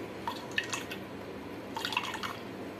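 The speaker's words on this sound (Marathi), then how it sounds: "असा प्रेस करून आपल्याला पूर्ण दूध काढून घ्यायचं आहे." Coconut milk drips from grated coconut being pressed by hand, with two short clusters of quiet, close drips separated by a brief pause.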